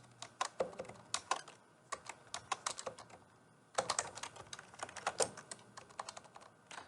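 Close, quiet typing on a computer keyboard, quick bursts of key clicks separated by short pauses, with no voices.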